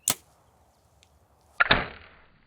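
An arrow is shot at a paper target card at 60 yards, with a sharp release snap at the start and a distinct impact thud about a second and a half later that fades quickly.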